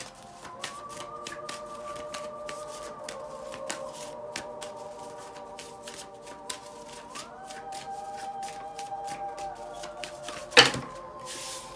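Tarot cards shuffled by hand in a steady run of soft riffling slaps and flutters, close and fairly quiet, with a low tonal hum underneath and a brief sharper clatter near the end.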